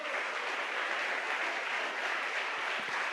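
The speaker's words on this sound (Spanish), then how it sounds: "Un aplauso al Señor" A church congregation applauds in praise during a Spanish-language sermon, a steady, dense wash of clapping that holds for a few seconds at moderate distance.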